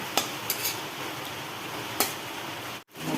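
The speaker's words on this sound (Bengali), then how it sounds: "এখন হচ্ছে চালের পাপড় ভাজা" Rice papad fries in hot oil with a steady sizzling hiss, punctuated by a few light clinks of a utensil against a pan.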